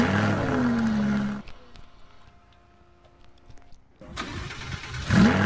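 A car engine in Roblox cranks and catches, then drops away to near quiet before a second rising rev; mid-pitched and fairly close, with no voices over it.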